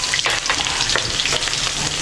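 Fish frying in hot oil, a dense close crackling sizzle with spattering pops running steadily throughout.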